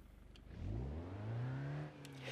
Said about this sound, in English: we're actually going to try the diesel van, because I want to hear what the diesel's like